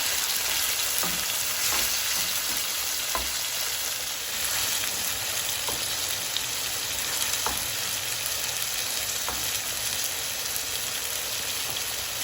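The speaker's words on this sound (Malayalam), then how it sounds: "ചിക്കൻ നല്ല ഹൈ ഫ്ലെയിമിൽ വെച്ചിട്ട് ഒരു 5 മിനിറ്റ് ഒന്ന് റോസ്റ്റ് ചെയ്തെടുക്കാം." Chicken roasts in a pan over a high flame, a dense, loud, unbroken sizzle like heavy rain, with occasional soft knocks and scrapes of stirring, no voices.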